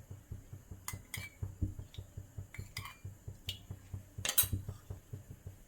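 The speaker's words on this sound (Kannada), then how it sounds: "ಸ್ಟವ್ ಹಚ್ಚಿ ಬಾಣಲಿ ಇಡ್ತಾ ಇದ್ದೀನಿ" Metal utensils clink and a wok is set on a stove, with sharp, irregular clinks and clatters over a steady low rhythmic hum, close by and without talk.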